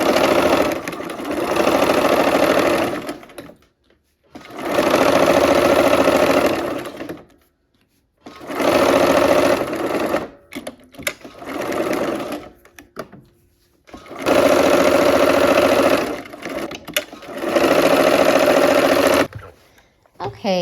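Sewing machine stitching the final seam of an autumn quilt block in several loud bursts of steady whirring, each lasting a few seconds and separated by short pauses, close to the listener.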